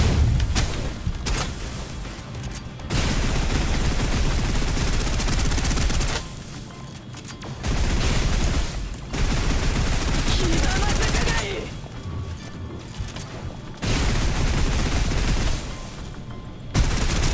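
Suppressive gunfire in the video game Snowbreak: loud, dense automatic fire that runs in long sustained bursts, broken by a few short lulls.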